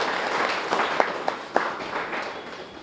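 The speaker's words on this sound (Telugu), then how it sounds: "బ్రహ్మర్షి పత్రిజీకి ఒకసారి గట్టిగా చప్పట్లు." An audience at a pyramid meditation centre inauguration applauds at moderate volume, with a few sharper individual claps standing out from the steady crowd clapping.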